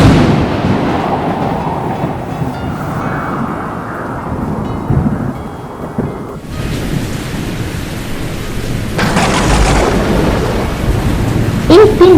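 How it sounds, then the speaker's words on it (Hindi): Heavy rain pours steadily as a constant dense hiss while deep thunder rumbles and rolls through it, with a loud crack and burst of downpour near the end. "एक दिन भारी बारिश हुई।"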